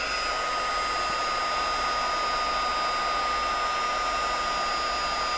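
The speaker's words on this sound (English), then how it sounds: "I am going to emboss these first." A heat embossing tool blows continuously while melting embossing powder, a steady, loud hair-dryer-like whoosh with a faint whine and no talking.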